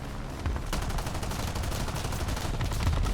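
Gunfire in the War Thunder video game, rapid, continuous bursts of shots that keep going throughout, loud and close with a rumbling low end.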